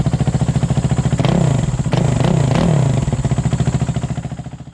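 A 2011 Kawasaki KX450F dirt bike engine runs loud and close, a fast rhythmic thump at idle that swells into several throttle blips before settling back.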